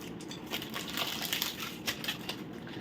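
A Cadbury Dairy Milk Oreo chocolate bar in a golden wrapper is snapped and crinkled, giving a few soft crunchy cracks and rustles, faint and close.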